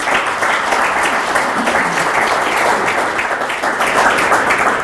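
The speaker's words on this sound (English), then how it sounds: "If you could give them a round of applause" Steady applause from a school community audience honoring the facilities committee, dense and continuous clapping filling the room for about five seconds with no speech over it.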